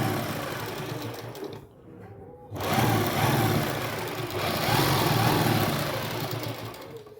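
An electric sewing machine stitches along buckram on a salwar cuff, a close, steady mechanical whir that stops briefly partway through and then resumes at full speed, with no speech.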